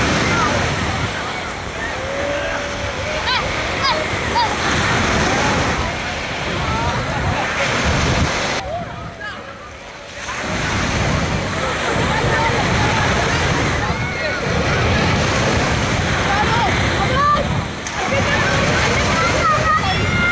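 Sea waves wash steadily onto a beach in Alexandria at sunset, a continuous rolling surf with wind buffeting the microphone, briefly dropping away near the middle; people can be heard talking over it.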